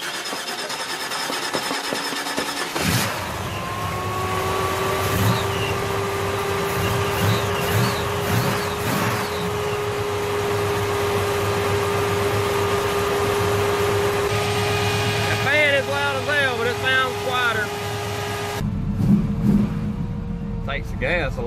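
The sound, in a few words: 1966 Chevelle Malibu 327 engine idling after rocker adjustment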